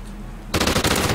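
Automatic gunfire from the video game Call of Duty Ghosts cuts in suddenly after a quiet half second, a loud, rapid burst of close shots that fills the rest of the short clip.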